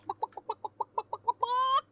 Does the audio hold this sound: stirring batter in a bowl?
no